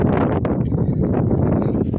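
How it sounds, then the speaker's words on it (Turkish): Outdoor wind buffeting the microphone beside a Cup motorbike, producing a loud, continuous low rumble with fluttering gusts that fills the clip, with no talking. "Bugün hava biraz rüzgarlı."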